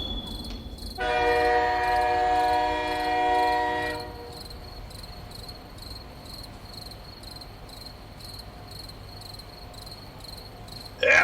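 A train sound effect in a Bengali horror story opens with a sustained horn blast, then settles into a low steady rolling rumble with a high insect-like whine, and a short knock comes at the end.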